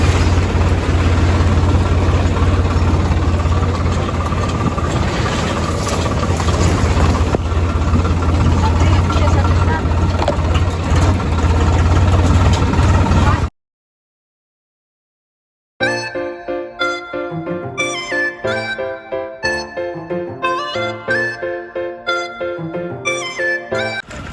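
A motorbike engine runs at a steady idle for about thirteen seconds, a constant low throb, then cuts to silence before music begins.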